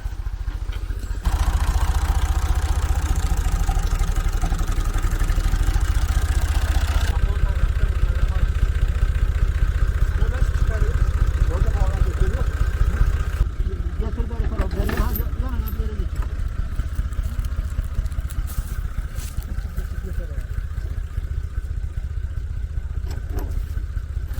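A heavy tractor engine rumbles steadily and close by, with clattering mechanical noise and a shift in tone partway through, voices faintly underneath.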